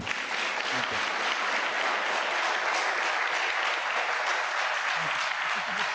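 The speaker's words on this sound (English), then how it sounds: "Perhaps I could just ask everyone to join me with one more round of applause." Sustained, dense applause from an audience after a keynote address at an LSE forum, many hands clapping evenly and steadily throughout, full and close with no pause.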